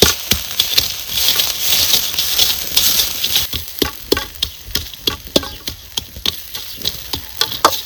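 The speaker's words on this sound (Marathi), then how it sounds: "ह्याच्यात तव्यातच असं खरडून घेणार आहे." Roasted chilies and salt scraped and crushed on a hot griddle, with a sizzle early on that gives way to repeated sharp scrapes and taps in an uneven rhythm.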